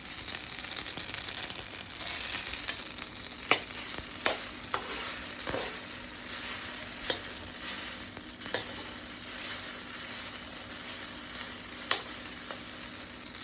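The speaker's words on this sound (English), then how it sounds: "Look, it's sizzling." Yellow pasta sizzles steadily in a hot pan while being stirred, with a continuous frying hiss broken by occasional sharp clicks and scrapes of the utensil, heard close with no talking.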